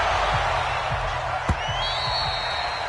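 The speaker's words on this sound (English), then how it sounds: "This crowd is ready as their guys get set to match up between the Cleveland Browns and the Baltimore Ravens" A large NFL stadium crowd roars steadily at a Cleveland Browns versus Baltimore Ravens football game, a broad continuous wash of cheering with a brief thud and a rising whistle-like tone partway through.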